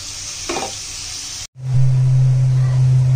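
Onions frying in a pan until browned sizzle with a steady broadband hiss, broken by a brief gap before a louder, closer sizzle with a low hum underneath.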